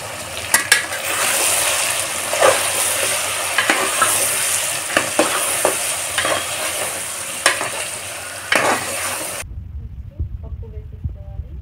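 Ginger paste and turmeric sizzle in a frying pan for sambar while a spoon stirs and scrapes with irregular clicks, close and steady for about nine seconds before the sizzle drops to a quiet low hum.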